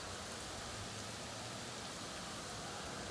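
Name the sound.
heavy rain falling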